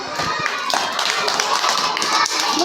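Children clap together in a classroom, a dense burst of rapid hand claps sustained for a couple of seconds, loud and close.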